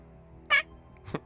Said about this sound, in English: He meeped like our cat.